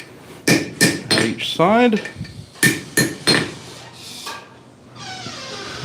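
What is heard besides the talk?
hammer driving a pin through metal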